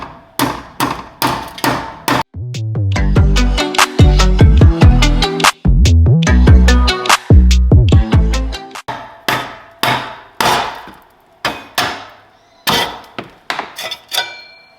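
Rubber mallet knocking loose BMW exhaust tips, with a run of sharp percussive taps, then a dense burst of rapid clanging strikes, then spaced single knocks trailing off, loud and close with no talk.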